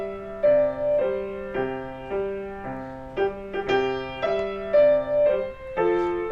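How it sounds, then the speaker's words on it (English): Piano playing only the outer notes of root-position chords for Jingle Bells, bottom then top, in an even bouncing rhythm of clear, close, moderately loud notes with no talking. "We could play the outside of that chord, going bottom, top,"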